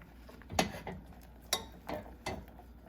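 A spoon knocks and scrapes around a pot of ham glaze in a few separate clinks and scrapes, fairly quiet and close, with no talking.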